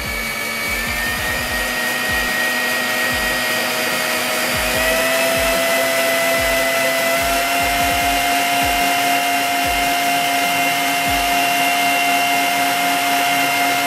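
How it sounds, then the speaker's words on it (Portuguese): An electric stand mixer beats cake batter at high speed, giving a steady, loud motor whine that holds unbroken throughout with no talk. "Vamos colocar nossa batedeira numa velocidade mais rápida."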